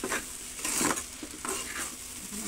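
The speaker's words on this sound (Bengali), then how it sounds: "এখন আমরা সুন্দর করে নাড়াচাড়া দিয়ে দেবো।" Noodles tossed with noodle seasoning in a pan, soft sizzling under repeated scraping stirs and light clinks of utensil against metal.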